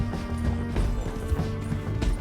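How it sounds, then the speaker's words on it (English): Horse hooves pounding in a Red Dead Redemption 2 chase, with heavy irregular thuds and scuffs under a background of game sound and music, close and moderately loud for about two seconds. "Damn horse!"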